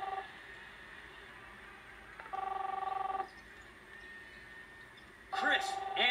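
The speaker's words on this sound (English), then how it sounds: "You don't hear the phone ringing off the hook?" A telephone in the video game Captain Spirit rings in two electronic bursts separated by a pause, faint under background game ambience, with a louder sharp sound at the end.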